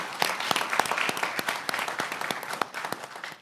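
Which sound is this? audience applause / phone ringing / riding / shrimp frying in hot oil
audience applause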